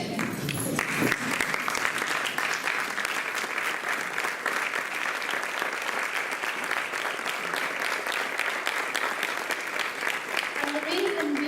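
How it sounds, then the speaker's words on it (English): Sustained applause from a standing audience at a Guru Purnima gathering, a dense, even wash of clapping that swells in quickly and holds steady for the whole stretch, with no words spoken over it. "We should stand up and give a standing ovation"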